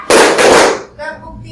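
A class of students claps hands together in a classroom, a single loud, close burst of many hands at once that fades quickly, followed by a brief voice.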